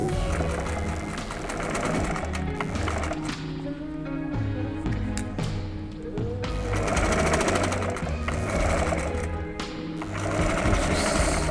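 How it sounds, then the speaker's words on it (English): A sewing machine with a zip foot runs a backstitch while attaching a zip for a fashion design piece: a loud, steady, rapid mechanical chatter of stitching that carries on continuously with slight surges, with no voices. "put it down and start stitching."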